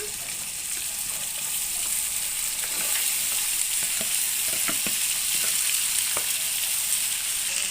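Taro stolons hit a hot frying pan for a shrimp charchari, raising a steady, close sizzle with scattered clicks and scrapes of stirring.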